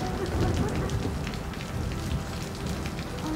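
Steady rain falls outside in a dramatic TV scene, a dense, even hiss of drops on surfaces that continues without pause.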